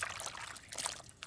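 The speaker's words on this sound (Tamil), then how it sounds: "அப்படியே அந்த கத்திரிக்காயை நல்லா அலசி எடுத்துக்கலாங்க" Sliced brinjal is swished and rinsed in a bowl of water while a dry fish and brinjal thokku is being prepared, giving close, brief splashes and trickling sloshes.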